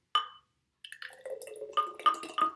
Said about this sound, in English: So let's just pour it now straight into